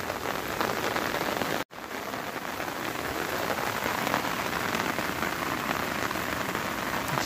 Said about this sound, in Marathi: पण जोरदार असा पाऊस पडलेला आहे